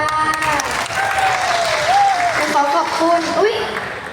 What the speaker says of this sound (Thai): เสียงปรบมือหน่อยจ้า